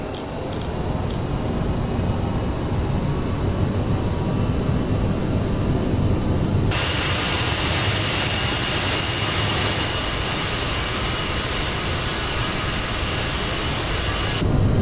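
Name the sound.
CRJ jet engines at full power, Flight Simulator video game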